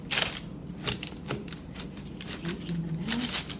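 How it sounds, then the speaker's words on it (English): A knife saws through dinner-roll focaccia made in a crockpot, giving a string of crisp, close crackling strokes with short pauses between cuts. "Take a trusty knife, go ahead and cut"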